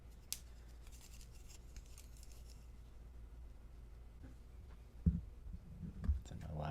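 A clay coil for a coil-built vase is cut with a couple of quick, close snips near the end, after a quiet stretch with faint handling noise and some soft talk.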